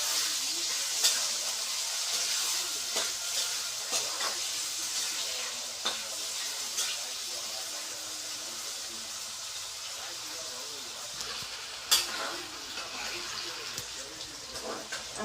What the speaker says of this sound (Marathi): बटाटा भाजून चांगलं घ्यायचं असं तेलात.